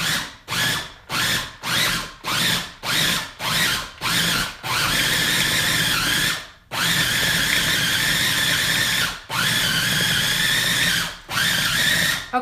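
Food processor blending a carrot cake protein ball mixture, running in short, rhythmic pulses at first and then in long continuous whirring stretches broken by brief pauses, loud and close, with no talking.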